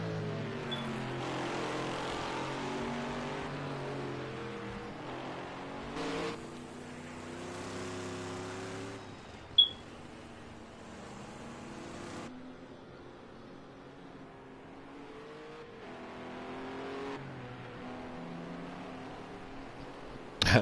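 Vintage race cars in a multi-class enduro race rumble past, engines droning with shifting pitch as cars approach and recede, some passes louder and nearer than others, with a sharp click midway.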